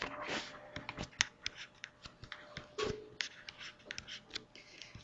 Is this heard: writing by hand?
yes